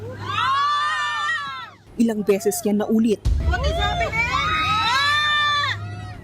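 Passengers scream and wail inside a Philippine Airlines plane that could not land in bad weather, their high cries rising in waves over cabin rumble, with a voice speaking in between.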